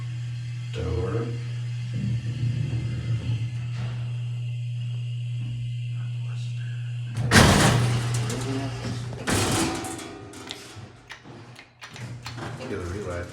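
A 1969 Dover hydraulic elevator door in a Milwaukee apartment building slides open over a steady low motor hum, with a clunk and a rumbling slide midway, fading afterward; a voice speaks briefly.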